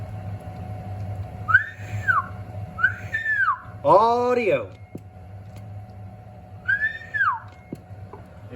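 A person whistles into a microphone while an amplifier is tested, giving three or four short rising-and-falling whistles with pauses between them over a low steady hum. A brief word is spoken.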